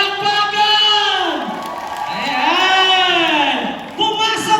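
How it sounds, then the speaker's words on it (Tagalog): An audience at a stage show cheers and whoops loudly, with long rising and falling shouts over a dense crowd roar and little clear clapping. "Malakas na palakpakan!"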